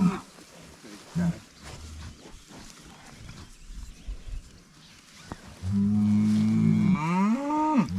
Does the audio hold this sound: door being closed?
no